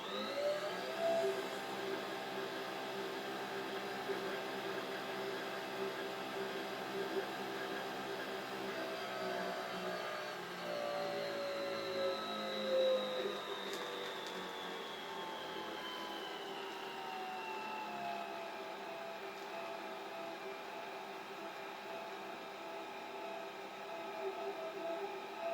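Nespresso Vertuo Pop+ brewing a 1.35-ounce Altisio espresso, a steady mechanical whir and hum with a rising whine partway through, running continuously and fairly loud with no talking.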